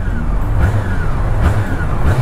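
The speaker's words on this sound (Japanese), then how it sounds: "まさに V テックの音。" Honda CB400 Super Bore motorcycle with VTEC, its engine running steadily close by with a low throbbing drone and rising and falling revs through the short stretch.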